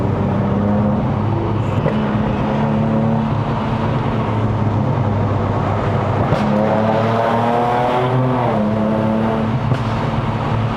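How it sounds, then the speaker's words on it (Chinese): Lexus RC350 V6 luxury coupe driven up a Malaysian mountain road to Genting, with a loud, continuous engine drone that rises in pitch as it accelerates, heard from inside the car. "它没有那个降档补油，就声音就不够凶了。"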